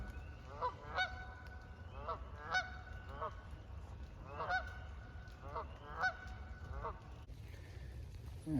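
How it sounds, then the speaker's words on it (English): Several geese honk loudly and repeatedly near their nest in Maryland woodland, harsh calls arriving in irregular bursts over a steady low background rumble. "These geese are really carrying on."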